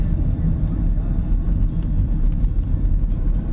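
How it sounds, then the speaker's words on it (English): A turbocharged 110-horsepower car engine with a diesel-like clatter, heard from inside on a long run as a loud, steady low rumble and drone with no break. "I keep thinking I got a diesel because it sounds like one."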